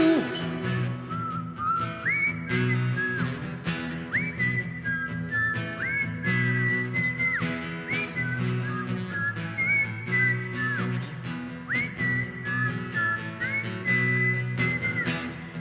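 Several audience members at a live concert whistle a melody together over the music, with steady sliding whistled notes rising and falling throughout.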